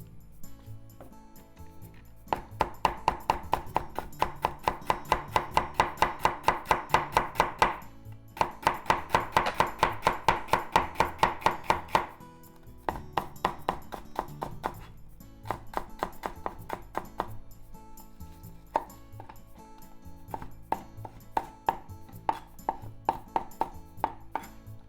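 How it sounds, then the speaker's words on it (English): A knife slices celery into very thin diagonal slices on a cutting board, a fast, even run of close, crisp chopping taps in several bursts separated by short pauses, with no talking. "Let's slice the celery into very thin diagonal slices."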